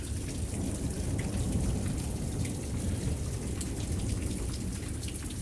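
Heavy rain pours onto plywood and surfaces under a carport overhang during a twilight thunderstorm at Lake Ripley, Wisconsin, a dense, steady close patter with faint thunder rumbling beneath.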